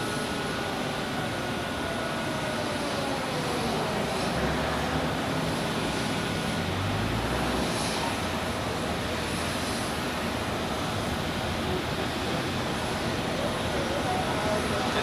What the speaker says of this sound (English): we have another airplane on runway 16, which is a Swiss A321